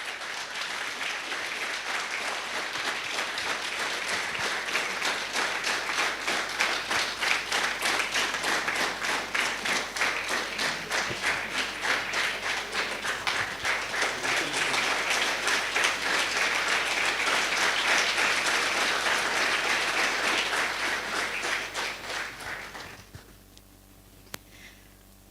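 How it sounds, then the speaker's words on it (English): A TEDx salon audience gives sustained, dense applause that swells for about twenty seconds, then fades quickly to quiet near the end. "Huge, huge round of applause."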